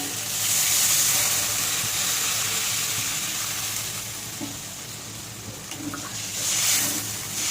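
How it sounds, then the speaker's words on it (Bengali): Water poured into a pan of frying potatoes sets off a loud, steady hissing sizzle that swells at the start and again near the end, close by, with bubbling underneath and no speech. "এবার জল দিয়ে দেবো।"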